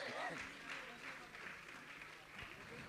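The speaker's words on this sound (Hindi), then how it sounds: "आप जोरदार ताली बजाकर इनका सम्मान करें। ताली आपकी बजनी चाहिए।" An audience at an indoor religious gathering claps in a soft, distant patter of applause that lasts the whole stretch, with a voice talking over it.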